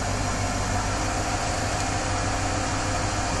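A vehicle engine idles steadily just after the alternator exciter wire has been disconnected, a constant close drone with no talk and no change in pitch.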